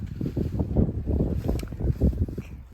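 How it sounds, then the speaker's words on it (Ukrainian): Strong outdoor wind buffets the microphone in a garden flower bed, a loud, rumbling, gusty roar that surges and dips throughout with no speech. "Ой, такий вітер у нас"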